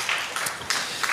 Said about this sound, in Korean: 다시 한번 계속 하시라고 박수 부탁드리겠습니다